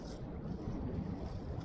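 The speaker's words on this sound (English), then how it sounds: "This wind is whipping." Wind whipping across an open lake, heard from a small fishing boat as a steady, loud broadband rush with gusty buffeting on the microphone, continuous and without speech.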